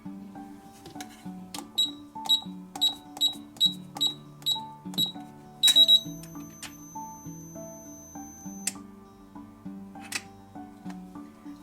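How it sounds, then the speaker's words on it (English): A LA GARD 702 swing bolt safe lock gives a quick series of short, sharp electronic beeps followed by a few scattered tones, close and clear, with no voices. "The signal to open is 3 green flashes with 3 beeps"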